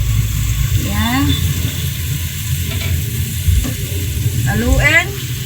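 Pork stirred through a simmering sauce in a hot pan with okra, sizzling steadily close up, with scraping stir strokes and spoon clinks throughout and a voice talking over it.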